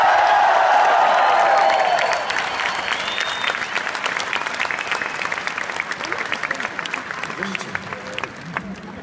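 A concert audience at London's O2 arena applauds and cheers for the crew, a dense roar of clapping and whoops following a voice over the PA, sustained and loud throughout.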